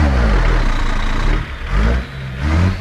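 A tuned Peterbilt 389 truck engine revs hard with a deep, loud, throaty roar that dips briefly twice between surges.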